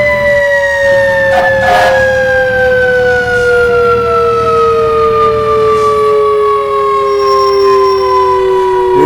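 Fire truck sending a Federal Q mechanical siren through heavy city traffic: a loud, continuous wail that slowly winds down in pitch, with brief horn-like blasts near the start and traffic rumble underneath.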